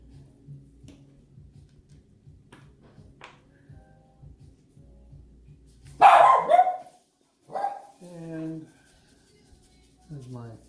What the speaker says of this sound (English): He seems to bark at everything, drives me crazy.